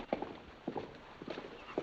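A racehorse's hooves clip-clop at a walk in an old 1950 film scene, a few soft, irregular thuds in pairs, fairly faint against a hissy background.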